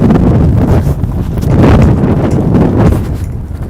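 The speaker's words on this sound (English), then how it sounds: "sheltered from this horrible wind" Strong, gusty wind blasts across the microphone outdoors in Washington D.C. on Inauguration Day, a loud, continuous roaring buffet with surges and brief lulls.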